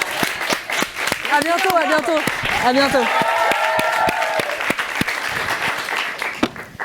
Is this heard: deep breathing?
no